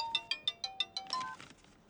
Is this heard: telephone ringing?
yes